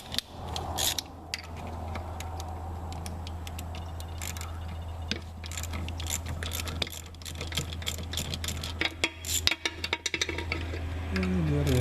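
A ratchet works on bolts while removing an injector from a 1998 Dodge 24-valve Cummins engine, quick irregular clicks close by over a low steady hum, with a voice briefly speaking.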